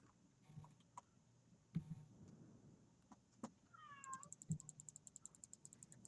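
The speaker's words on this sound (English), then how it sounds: "I like this loud meowing." A cat meows loudly several times, with drawn-out calls spaced over a few seconds, set against a quiet room with occasional soft knocks and a rapid ticking toward the end.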